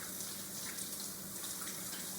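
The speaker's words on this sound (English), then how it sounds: "stick them back under the water, wash all that soap off" Tap water runs steadily into a sink as soapy hands are rinsed under it, a soft, continuous, even hiss with no talking.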